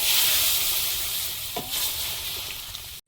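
Chopped tomato hits dal in a hot pan, giving a loud, close, steady sizzle with a brief stirring scrape midway.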